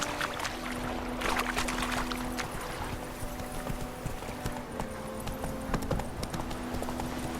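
Roach the horse gallops in The Witcher 3, hooves clip-clopping in a quick, steady rhythm close up over faint outdoor ambience.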